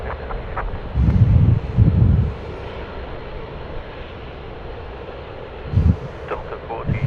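A Boeing 717 jet rolls for takeoff on runway 16 right, heard as a steady, distant engine roar under heavy wind buffeting, with low rumbling gusts swelling and fading.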